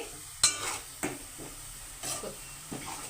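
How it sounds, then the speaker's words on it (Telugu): Onions frying in a pan over a high flame while a mutton masala curry is cooked, giving a steady low sizzle broken by a few sharp stirring scrapes and clinks of a utensil against the pan, close and moderately loud. "హై ఫ్లేమ్లో పెట్టి ఆనియన్స్ని ఫ్రై చేసుకుంటే తొందరగా అవుతాయి"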